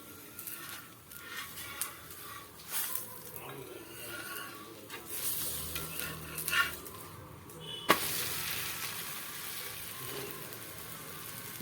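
A wheat dosa cooks on a hot pan over a medium flame with oil or ghee, giving a faint, steady sizzle up close, with occasional soft scrapes and a voice talking over it.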